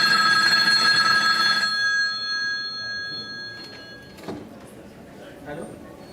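A telephone bell rings loudly in an indoor scene from a Marathi stage drama, its steady ringing tone filling the first seconds before cutting off, followed by quieter room sounds.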